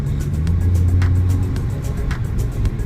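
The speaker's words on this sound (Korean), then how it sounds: "주행 한번 해보고 있습니다 제가 요철 좀 넘는데 요철에서 특별한 이상 없고요" A Kia New Morning SLX small car with about 96,000 km on it drives over road bumps, a loud, close, steady engine and road rumble from inside the cabin with faint rattles.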